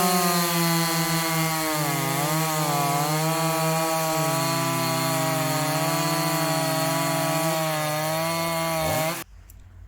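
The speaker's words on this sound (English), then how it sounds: "The 45cc saw did the cut in 10 seconds" A 45cc Chinese clone chainsaw cuts through wood, its engine screaming loud and steady for about nine seconds with the pitch wavering under load, then stopping abruptly and leaving a faint idle.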